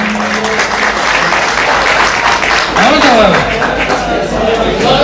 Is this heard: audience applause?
yes